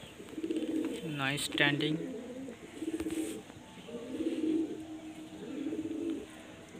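Pigeons of bauria, Andhra lalsira and madrashi breeds coo in low, throaty bursts that repeat every second or so. Someone talks briefly over the first cooing.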